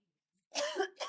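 A woman coughs close to a pair of microphones after a moment of silence, giving a harsh, throaty cough followed by a second shorter burst.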